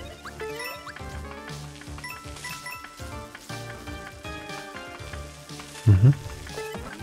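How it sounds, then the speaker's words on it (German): Crackling, sizzling hiss of thickening energy beams in a Super Mario game set in Bowser's castle, layered over tinkling game music, with a short louder burst near the end. "Also wenn die dann dick werden, die Strahlen, dann brutzeln die ein."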